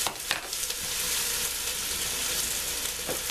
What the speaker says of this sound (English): want to give those a stir, Rock?